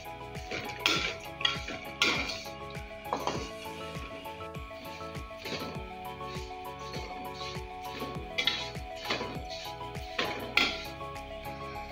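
Vermicelli (seviyan) stirred in hot oil in a pan on a lit stove: intermittent metallic clinks and scrapes of a spoon against the pan, close and fairly soft, over steady background tones.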